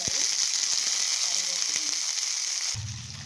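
Two green chillies go into hot oil with spluttered mustard seeds, and a loud, close, hissing sizzle fills the pan with scattered pops and crackles, then drops abruptly near the end to a low hum.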